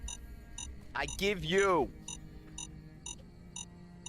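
A device in the video game Fallout: New Vegas emits short, regular repeating beeps, evenly spaced and steady, while someone briefly speaks over them.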